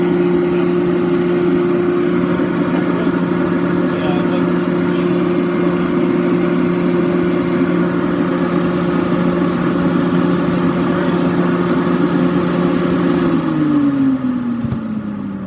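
A powerful car engine with a turbo-like whine runs steadily at a loud, even level for about thirteen seconds, then its pitch drops as the revs fall near the end; no talking is heard.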